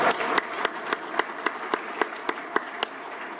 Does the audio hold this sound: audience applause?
yes